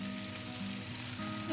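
Pork ribs sizzle steadily as they pan-fry in a hot wok, a dense continuous crackle with no one talking.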